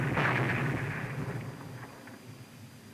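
A seismic survey explosion for oil exploration booms once up front, then a rumbling roar slowly fades away, distant and muffled with no talk.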